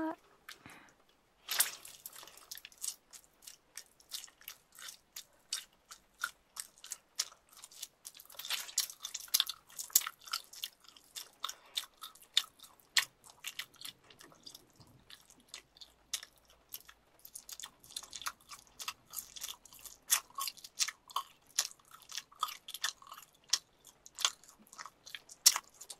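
Close, wet chewing and biting from a cannibal character eating flesh in a Japanese voice drama: soft squishy bites and crunches repeat steadily, sometimes in quick clusters, with small slurping drips between them and no talking.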